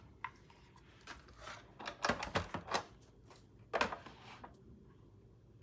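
A die-cutting machine cranks paper through in bursts of clicking and ratcheting, a few quick mechanical clacks close by with quiet pauses between.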